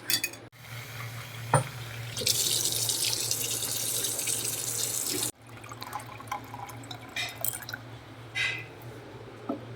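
Water runs from a kitchen tap to soak pitted dates for a baby's meal, a steady close splashing stream that starts after a short pause, stops abruptly midway, then gives way to scattered drips and small clinks.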